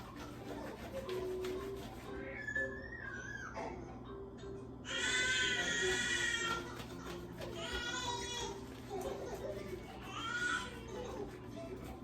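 A baby fusses in short whiny bursts that rise and fall, several cries over steady kitchen background noise, fairly near and moderately loud.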